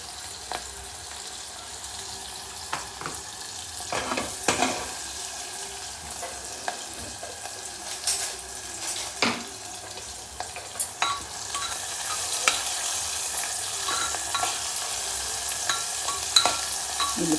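Onions frying with turmeric and asafoetida in a pan for a raw banana stew, with steady sizzling throughout and frequent scraping stirs of a utensil against the pan.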